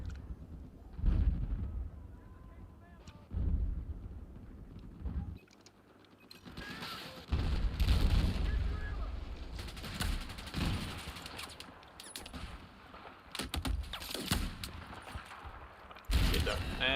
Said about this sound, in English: And there's the mortar again.